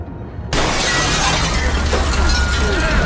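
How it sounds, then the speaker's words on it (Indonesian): Window glass in a hospital waiting room shatters under a violent storm, a loud sudden crash bursting in after half a second of quiet and followed by a sustained dense roar of breaking and scattering debris. "jendela pada ruang tunggu hancur akibat kuatnya serangan badai"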